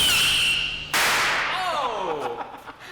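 Flimsy firework rocket fired along a test channel: a sharp hissing burst at ignition, then a fading, descending screech as it races away.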